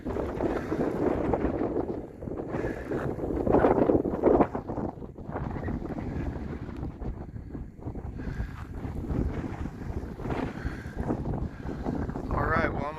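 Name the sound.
wind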